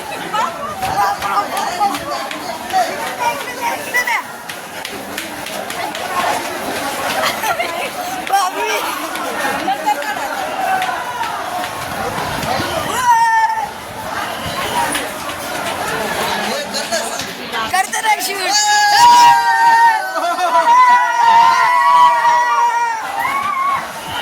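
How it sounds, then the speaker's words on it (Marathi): A crowd rushes into a ticket queue, a dense babble of many voices with shouting and shuffling, while a person talks loudly close by. "गर्दीच गर्दी दादा दादा, हे बघ"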